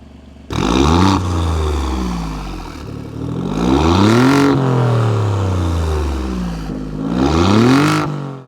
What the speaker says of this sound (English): we are going to let you hear this beautiful exhaust note.